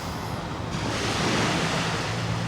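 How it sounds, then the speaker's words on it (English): Ocean waves wash steadily onto the shore at Ca'n Pastilla, Mallorca, on a rainy morning. The surf makes a broad, continuous rushing hiss, close and fairly loud, with light wind noise on the microphone and no voices. "Apart from the sound of the waves, it's really quiet down here."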